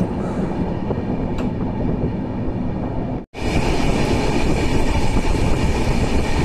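The Sealdah–NJP special passenger train, number 03103, runs at speed. From on board comes a loud, continuous rumble and rattle of wheels on rails, broken by a very short dropout midway.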